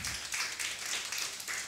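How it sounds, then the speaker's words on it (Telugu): A church congregation applauds its sponsors, a short burst of steady, fairly close clapping from many hands with no talking over it. "వాళ്ళకి మనం చప్పట్లు కొట్టి అభినందిద్దాం."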